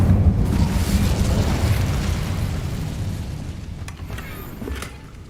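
Incendio fire spell cast in the video game Hogwarts Legacy, a heavy booming burst of fire with a rumbling low roar that slowly decays, followed by a few crackling pops.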